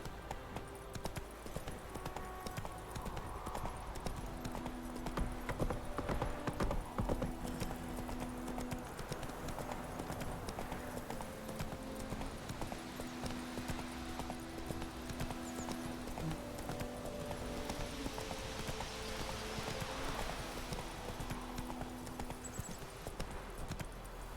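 Roach the horse gallops steadily through The Witcher 3, a continuous rhythmic clip-clop of hooves held close and loud for the whole stretch, with a faint whinny and a brief voice near the start.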